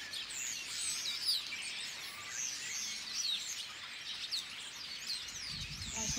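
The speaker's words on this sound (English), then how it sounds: "How many birds are there in that thing? Sounds like 50 or something." A large flock of birds, around fifty in one tree in a Spanish town along the Camino Francés, keeps up a continuous mass of high chirps and tweets, fairly close and steady, with a thump at the end.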